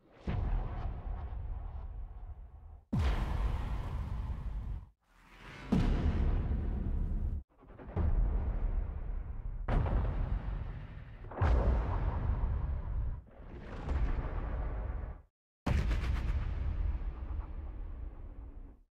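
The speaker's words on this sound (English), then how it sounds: "Just a nice mixture of different trailer hits and things like that" Orchestral trailer hits and booms from a percussion sample library, a series of about seven loud, deep impacts, each one sounding alone and decaying for a second or two before the next.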